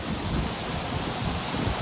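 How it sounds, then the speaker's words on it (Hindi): Strong wind gusting outdoors in the Chitral mountains, a steady loud broadband rush with mic buffeting and no pauses, no voices. "हवा चल रही बहुत तेज।"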